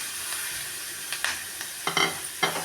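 Boiled beans tipped into a pan of frying onions and green chillies, giving a steady close sizzle with a few louder bursts of hiss as the beans land and are stirred.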